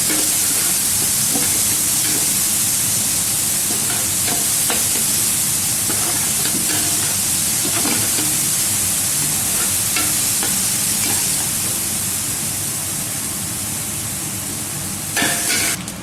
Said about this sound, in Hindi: ओनियन को ब्राउन कर लेंगे